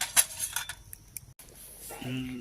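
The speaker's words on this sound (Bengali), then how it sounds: "ঢাকনাটা ঢেকে দেব ঢেকে দিলাম" A metal lid set onto a pot of thin letka khichuri made with rice and dal on a wood-fired clay stove, a few clattering metallic clinks followed by a low steady simmer.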